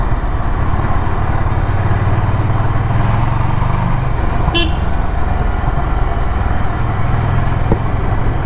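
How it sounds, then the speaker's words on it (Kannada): A Ducati Scrambler motorcycle being ridden, its exhaust a steady loud drone mixed with heavy wind and road rush, with a brief horn toot from nearby traffic partway through. "ಎಕ್ಸಾಸ್ಟ್ ನೋಟು ಚೆನ್ನಾಗಿದೆ."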